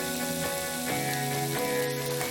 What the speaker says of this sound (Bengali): পেঁয়াজ বাটা দিলাম, একটু নাড়িয়ে নিই।